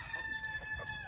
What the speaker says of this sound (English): What you hear are roosters.